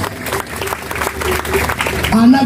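A church youth jamboree congregation claps, the dense patter steady and close under an ongoing voice, with music and voices swelling toward the end.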